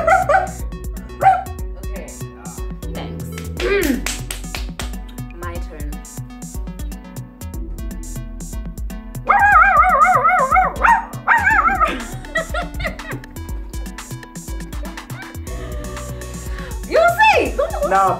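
A man imitates a dog with his voice, giving a series of short bark-like yelps and bow-wows between bursts of laughter and chatter from other people, loud and close, with music playing underneath.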